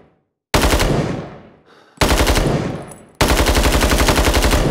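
A 7.62x39 intermediate-cartridge rifle firing in the Vietnam War shooter game Rising Storm Vietnam, loud close bursts of rapid automatic gunfire separated by brief pauses, each burst ending abruptly.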